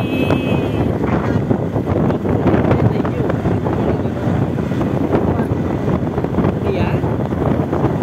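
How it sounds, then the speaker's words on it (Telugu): Loud, buffeting wind rumbles and roars steadily against the microphone while riding a motorbike along a roadside, with a voice faintly audible underneath. "గాలి అదిరిపోతుంది."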